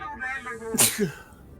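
A single sharp sneeze bursts out close by, with people talking just before it, in the video game Star Wars: The Old Republic.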